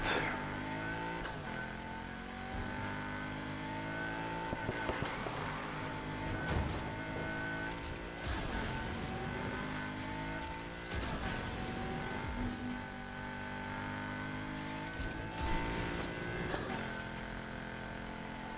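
A car driving in the video game Need for Speed Heat, its engine revving and shifting up and down through the gears, loud and continuous with repeated rising pitch sweeps and no speech.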